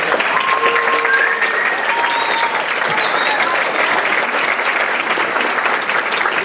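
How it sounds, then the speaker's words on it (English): A crowd claps steadily and warmly throughout at a band banquet, dense applause filling the room with a few whistles cutting through. "I just wanted us to give Becky a round of applause"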